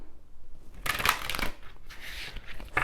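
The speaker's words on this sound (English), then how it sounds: "let's push this aside and do some shuffling" A short, soft riffle of tarot cards being shuffled, a quick papery burst followed by lighter flicking, close and quiet.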